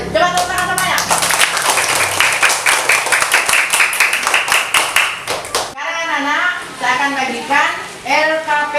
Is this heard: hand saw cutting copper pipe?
no